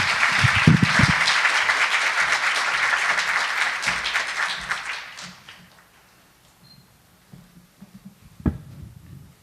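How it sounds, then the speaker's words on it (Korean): Loud applause from a crowd at the opening ceremony of an international diplomacy symposium fills the first five seconds, then fades away into near silence with a few faint thumps. "큰 박수로 환영해 주시기 바랍니다"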